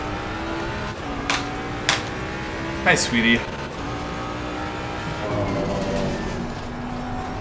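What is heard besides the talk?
race car engine in racing video game, GT3 Mustang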